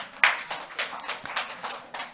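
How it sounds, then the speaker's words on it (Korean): A church congregation claps during a sermon, a short burst of scattered, uneven hand claps close by, with no talking over them. "그럼 박수 칠래면 좀 화끈하게 좀 쳐봐."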